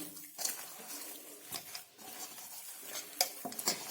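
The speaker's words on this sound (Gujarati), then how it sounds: "એકદમ સરસ રીતે આ રીતે મિક્સ કરી અને મસળી લઈશું" Boiled potato dough for potato papad is mashed and kneaded by hand, giving soft, faint squishing and occasional light taps and scrapes against a bowl, close and without speech.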